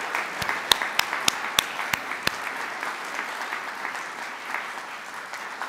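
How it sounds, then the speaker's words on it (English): An audience at an alumni achievement awards ceremony applauding steadily, with a few sharp nearby claps standing out early before the clapping settles into an even patter. "Can we have one more round of applause for all of them?"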